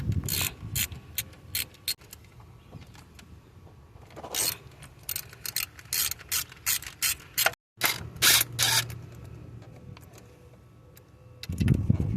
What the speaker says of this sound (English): I'm starting to unscrew the valve cover.